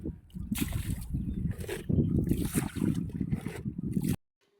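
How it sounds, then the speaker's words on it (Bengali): Water is sloshed and poured out in uneven gushes beside a fish pond, with splashing bursts and short pauses before it stops abruptly. "জলটা ফেলে দেই আগে"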